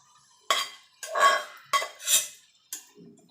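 Pumpkin greens tossed into a hot pan of fried spices and green chilli for a vegetarian Bengali kumro shak, with four separate bursts of metal clinking and scraping as a utensil stirs against the pan.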